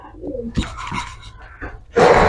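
Pigeons cooing in a loft of bred fancy birds, including crested bullfinch-type youngsters, with soft low coos and rustling followed by a louder burst near the end.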